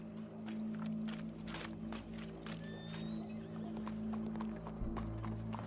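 Horse hooves clip-clop steadily in Red Dead Redemption 2, with a whinny rising midway, heard against a low ambient hum from the game world.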